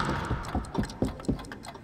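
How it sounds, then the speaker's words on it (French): A clock ticks in a steady, evenly spaced rhythm, each tick crisp and fairly close, with a faint hum underneath. "J'entends un tic-tac qui vient de par là. Qui vient du haut de cette tour."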